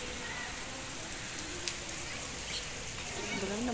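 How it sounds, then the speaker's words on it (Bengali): Rain pouring outdoors on a rooftop, a faint, even patter and hiss of drops hitting surfaces, continuous and fairly distant, with occasional brief sounds and faint voices in the background. "আবার বৃষ্টি পড়া শুরু হয়ে গেল।"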